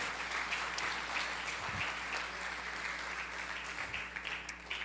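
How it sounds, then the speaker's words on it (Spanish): A church congregation in El Salvador gives applause during a sermon; a soft, even patter of many hands clapping continues steadily, heard from a distance and fairly quiet, with a low hum underneath. "Le damos un aplauso a Él"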